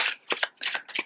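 Oracle cards being shuffled in quick bursts, four crisp riffling passes close by with short pauses between, no talking.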